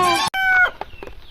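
A country chicken clucks loudly and repeatedly up close, with short throaty calls tapering off into quieter clucks.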